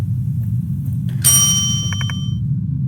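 A shop bell rings with a bright metallic ding in a boba tea shop video game: one clear ring, then three quick dings close together, over a low steady background hum.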